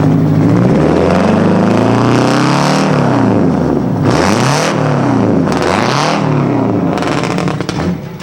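A loud hot rod engine roars close by at a car-show cruise-in, revving up and down in repeated sweeping surges that dominate throughout, with no talking over it.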